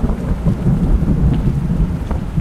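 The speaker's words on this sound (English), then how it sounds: "That thunder had a lot of bass in it." Deep, bass-heavy thunder rumbles steadily in a PC video game, joined by constant rain noise, loud and continuous with no talk.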